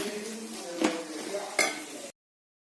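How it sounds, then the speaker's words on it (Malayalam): Mango pickle scraped and spooned from an aluminium pot into a steel vessel: soft stirring and scraping with two sharp metallic clinks of a spoon against the pots, close up, before sudden silence. "ഇനി ഇത് അലുമിനിയം പാത്രത്തിൽ നിന്ന് സ്റ്റീൽ പാത്രത്തിലേക്ക് മാറ്റുകയാണ്."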